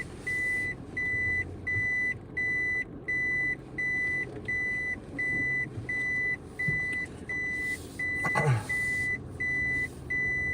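A vehicle's reversing alarm beeps steadily in a regular repeating pattern, loud and near over a low engine rumble, with a brief vocal imitation of the beeps.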